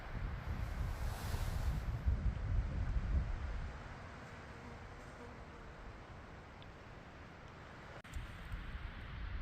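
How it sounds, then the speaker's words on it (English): Wind gusts on a Colorado mountain trail, a loud rumbling buffet across the microphone for the first few seconds that eases to a softer steady rush, then picks up again near the end. "Haven't been shooting much today because of the wind. Seems to be dying down a little bit"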